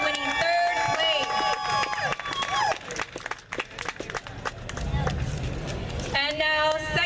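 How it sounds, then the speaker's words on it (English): Audience at a pin-up contest during a hot rod car and bike show applauds and cheers, with a crowd's clapping spread throughout and a loudspeaker voice talking over it. "And big round of applause for Michaela Brienne for winning 3rd place."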